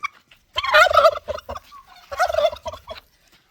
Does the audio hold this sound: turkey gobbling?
yes